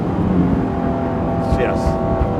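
An Aston Martin One-77 EVO with a lighter flywheel runs at around 4,000 RPM, a steady, close, loud engine drone with voices talking over it.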